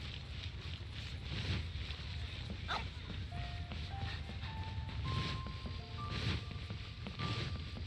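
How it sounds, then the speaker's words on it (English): Dogs bark steadily in a video game, a dense cluster of barks and yips over windy ambient noise, with a few sustained tones drifting in the background. "Nice doggies here."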